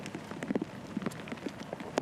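Rain falls on a golf course during a professional tournament round at Aramir CC in Busan-Gyeongnam, a soft, steady patter with scattered light taps and drops, faint and without talk.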